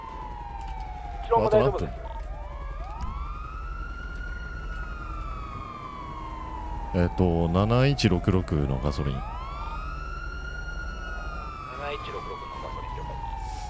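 Several police car sirens wail and sweep up and down in a GTA roleplay chase with three patrol cars and a helicopter, the tones overlapping and gliding continuously while players talk over them.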